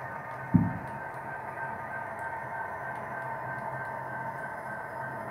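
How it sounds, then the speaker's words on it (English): A freight train carrying grain runs on a distant mountainside track, a faint, steady low rumble and hum after one sharp thump near the start. "There is a mountainside track, and that is the track that you can see the train on right now"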